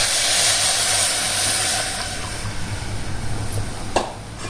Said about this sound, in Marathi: हळद तेलात थोडीशी भाजली गेली का ताक टाकून घ्यायचं